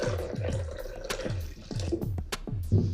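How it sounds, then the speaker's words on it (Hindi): Coconut water poured into a ground blend of milk and coconut for a milkshake, giving a steady series of gurgling, splashing glugs close by, with no talk. "अब इसमें नारियल पानी डालेंगे"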